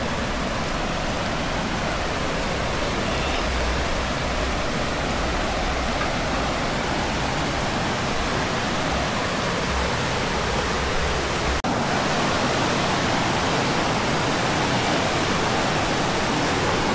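Osbugoy Falls roaring steadily and powerfully, a dense, continuous wash of falling water close by that stays loud and unbroken throughout, with no voices over it.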